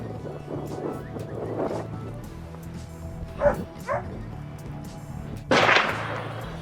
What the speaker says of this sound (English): the sudden barking of the hounds shattered the silence